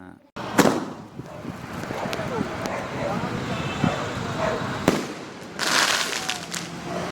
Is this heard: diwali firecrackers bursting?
yes